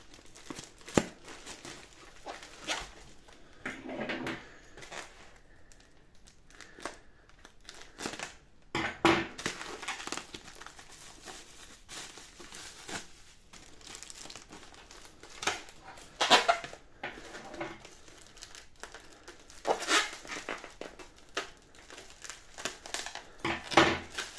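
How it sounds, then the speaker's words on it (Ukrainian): Bubble wrap packaging around a battery charger crinkles and rustles in scattered bursts as it is handled up close, with sharper crackles now and then and no talking. "запакований він в такий ось пакет з пузирями"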